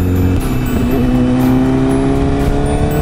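A 1000cc motorcycle engine drones loud and steady while riding on a winding coastal road, a continuous close roar with a slight pitch rise as it pulls, under strong wind rush.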